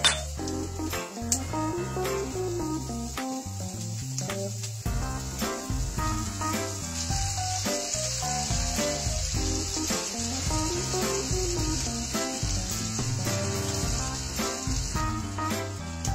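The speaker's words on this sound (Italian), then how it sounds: "Dorata la cipolla, aggiungiamo il prosciutto crudo, lo lasciamo andare un paio di minuti." Prosciutto crudo and golden onion sizzle steadily in a pan, with frequent clinks and scrapes of a utensil against the cookware throughout, close and busy without any talk.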